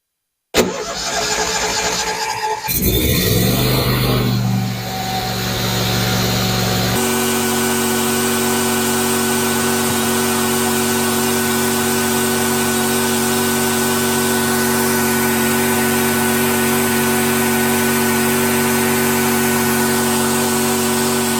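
A Briggs & Stratton 20 kW standby generator engine cranks over and catches, then settles into a loud, steady running drone that continues throughout.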